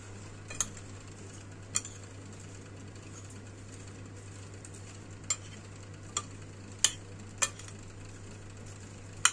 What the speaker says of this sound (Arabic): وهقلب بقى كل مكوناتي مع بعضها